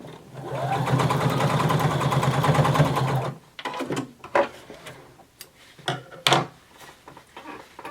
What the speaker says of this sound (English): So you're just going to sew through all layers at the top.